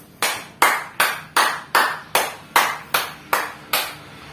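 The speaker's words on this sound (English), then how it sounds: "let's give yourself a 10 claps." Ten sharp, loud claps in a steady rhythm, each crisp and evenly spaced, like a science class clapping in unison with no talking.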